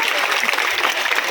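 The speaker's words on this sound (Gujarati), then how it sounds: "તાળીઓ આપણે ચાલુ રાખશું" Applause from an audience at a primary school entrance ceremony, a brief burst of dense clapping, fairly loud and steady, with a voice over it.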